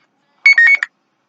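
A phone alarm goes off with a bright, beeping electronic tone, three quick bursts close and loud, then silence.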